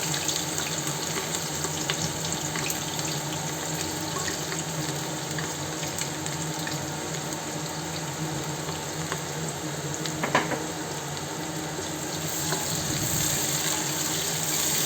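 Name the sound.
onion and fenugreek frying in hot oil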